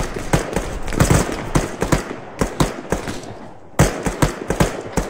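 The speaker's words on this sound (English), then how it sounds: "They're shooting us." Gunfire aimed at the player in Arma 3, irregular cracking shots and short bursts ringing out with echoing tails, some clustered rapidly, others spaced, loud and sharp throughout.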